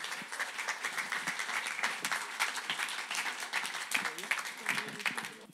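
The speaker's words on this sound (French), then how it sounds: "On peut les applaudir." An audience at an economic conference event applauds, a dense steady wash of clapping lasting several seconds, with speech mixed in beneath.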